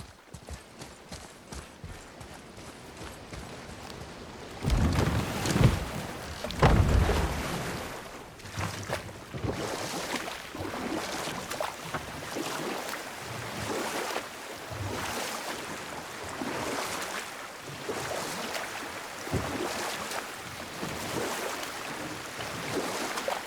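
A boat moves steadily through water in God of War (2018), with sloshing waves and soft wind and a rhythmic knocking, louder at first and then settling into a constant wash.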